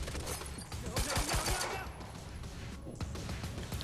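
An enemy fires a machine gun in the action game Quantum Break, producing rapid bursts of gunfire near and loud, with some talking over the shots.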